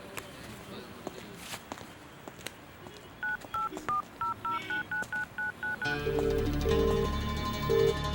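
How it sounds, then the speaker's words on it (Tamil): A rapid series of short electronic keypad tones as a number is dialed, then a ringing tone begins, with faint footsteps and background noise. "ஒரு ஃபோன் பண்ணணும்."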